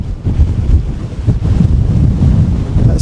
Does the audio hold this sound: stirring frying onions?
no